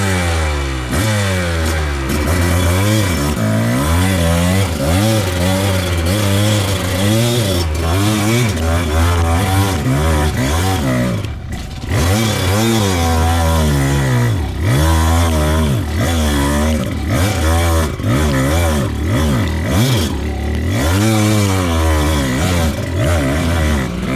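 A Kawasaki KDX220 dirt bike climbs a small hill at an off-road park in second gear with clutching. Its engine revs loudly and continuously, pitch surging and dropping over and over, with no voices.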